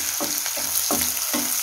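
A large chopped onion, green chillies and curry leaves fry in a pan for mushroom curry, with a continuous close sizzle broken by four scraping stirring strokes.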